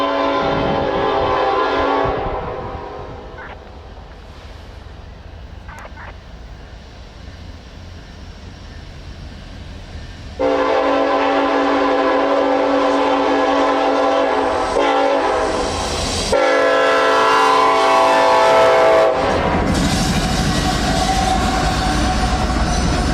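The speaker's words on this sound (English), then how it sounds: "Leading the charge on this northbound would be NS SD70 ACE number 1013, making his presence known with a very sharp" Northbound Norfolk Southern SD70ACE locomotive number 1013 sounds a sharp K5LLA horn in several loud blasts, long and close, over the rumble and rail clatter of the passing train.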